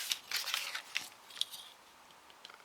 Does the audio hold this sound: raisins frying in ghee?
no